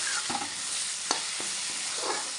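Spice masala fries in oil in a pan, giving a dense, constant close sizzle, while a spoon scrapes through it in a few distinct stirring strokes.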